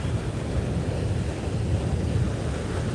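Ocean waves wash onto a beach at Cocoa Beach, making a steady, broad roar with heavy wind buffeting the microphone and no voices.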